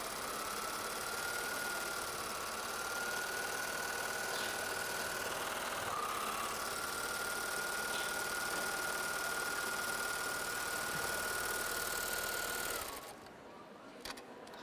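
A Babylock sewing machine runs steadily with thick cabled thread on top, doing a dense satin stitch at a craft fair; a continuous motor whir and rapid stitching go on for about thirteen seconds, then stop.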